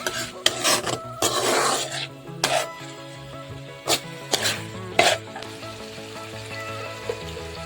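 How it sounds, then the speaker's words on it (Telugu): A spoon stirs tomatoes into a potato curry in a sizzling pan, giving scraping strokes and clinks against the metal over a steady frying hiss, with a few sharper knocks. "టమాటాలు వేసుకోవాలి కొద్దిసేపు నేను వేసినా ఇప్పుడు ఇట్లా వేసినాక కలుపుకోవాలి"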